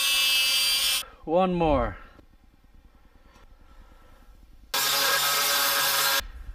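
An abrasive cutoff wheel cuts metal pieces in two loud, harsh grinding bursts near the start and end, with a short spoken remark and quiet shop noise in between.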